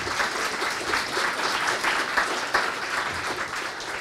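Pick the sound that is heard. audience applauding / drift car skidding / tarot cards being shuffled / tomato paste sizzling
audience applauding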